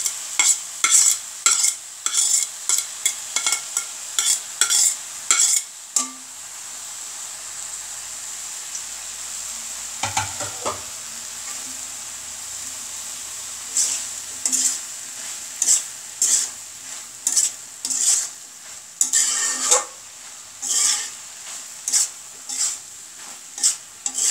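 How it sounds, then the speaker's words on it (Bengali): Vegetables with boiled moong dal being stirred in a pan, rapid repeated scraping strokes of a spatula over a constant sizzle, pausing partway before resuming in quick rhythmic bursts, close and loud with no talk. "এখন আমি এর ভিতরে সেই মুগ ডাল যে সিদ্ধ করে রেখেছিলাম সেটা দিয়ে দিলাম।"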